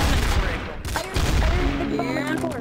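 A scout rifle in a Garry's Mod Trouble in Terrorist Town match fires amid dense, loud in-game gunfire and chaotic background noise.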